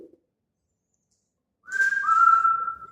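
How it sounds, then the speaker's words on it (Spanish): A person whistles a steady, fairly loud high note after a stretch of near silence, the pitch dipping slightly then holding. "Si puedo tener la boca un poco abierta, voy a silbar fuerte."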